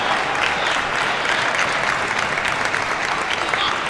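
A loud, dense cheer and applause from the crowd at a table tennis men's team semifinal between Tomokazu Harimoto and Liang Jingkun at the Asian Championships, steady and close throughout.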